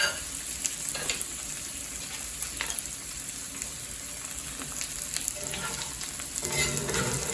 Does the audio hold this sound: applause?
no